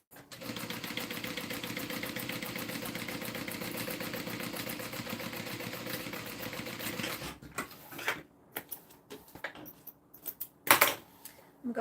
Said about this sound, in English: now we're going to sew this on